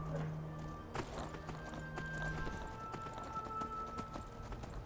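A horse in Skyrim clip-clops at a gallop across open country, steady hoofbeats running throughout with a brief whinny near the start, fairly close and loud under game ambience.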